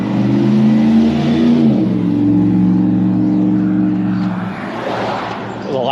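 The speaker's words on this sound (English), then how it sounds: "Loud truck." A loud truck passes along a street in Erie, Pennsylvania, its deep engine roar close and strong at first, then easing and fading as it moves away.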